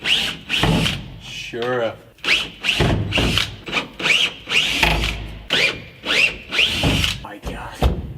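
A power drill backs screws out of a car during a Roadrunner stockcar build, sounding as a series of short, rising whirring bursts in quick succession, each separated by brief pauses, with a person briefly speaking.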